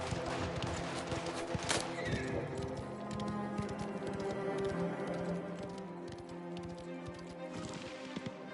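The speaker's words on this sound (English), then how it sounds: "I love the idea of a Mafia game where you can ride a horse." Horse hooves clip-clop steadily while riding in the open-world crime game Mafia: The Old Country, with an occasional whinny over a dense bed of game music and ambience.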